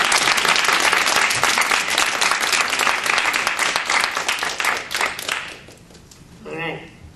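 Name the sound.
audience applause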